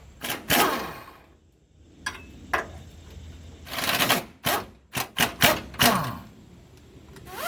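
An 18 mm socket wrench works on the cross member bolts of an LMM truck during an oil pan swap, producing close bursts of rapid ratchet clicking separated by short quiet gaps.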